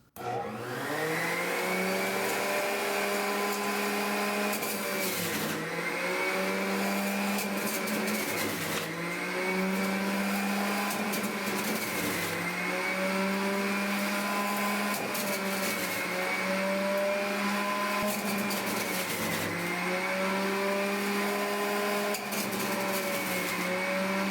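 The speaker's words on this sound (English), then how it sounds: "Next, I'm going to be juicing 2 large oranges" A Hamilton Beach Big Mouth juice extractor whirs loudly and steadily while juicing quartered oranges, its motor whine dipping briefly every few seconds as fruit is pushed through, close and continuous with no talking.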